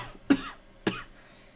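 Two short, sharp human coughs about half a second apart, close and dry, each a quick burst that fades fast into a quiet background.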